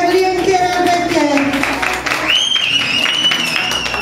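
Applause for a little girl dressed as a ladybird at a children's carnival, with steady clapping from a small crowd and an adult voice talking over it throughout.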